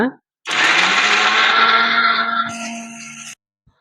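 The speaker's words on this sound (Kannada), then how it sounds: "ಈಗ ಮಿಕ್ಸರ್ಗೆ ಹಾಕೊಳ್ಳೋಣ" A mixer grinder blending tomato chutney whirs loudly for about three seconds, its motor pitch shifting near the end before cutting off abruptly, with a brief voice at the start.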